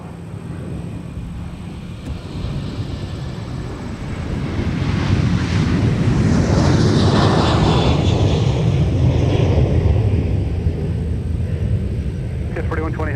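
A jet airliner taking off at MSP airport, its engine roar building from a distant rumble to a loud, sustained broadband roar that stays strong to the end, with wind buffeting the microphone.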